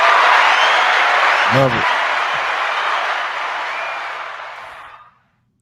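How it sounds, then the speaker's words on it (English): An audience claps and applauds during a podcast taping: a dense, steady wash of clapping that fades out near the end, with a brief spoken voice cutting through partway. "we can't hear them if y'all keep clapping"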